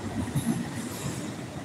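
A train rolls steadily past beneath a bridge, its continuous rumble and rail noise close and loud with faint wheel squeal throughout, no talking.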